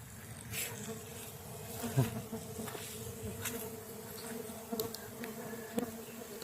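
Close, continuous buzzing of many stingless bees, with individual insects droning past and swelling in loudness now and then.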